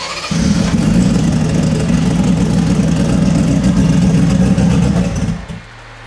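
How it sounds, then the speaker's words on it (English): A 2700+ horsepower drag-racing engine in an Australian VL car fires up from warm and runs at a loud, rough, lumpy idle for about five seconds before cutting back to a quieter level, with no speech. "Engine's warm now. Start it back up and see if it'll go."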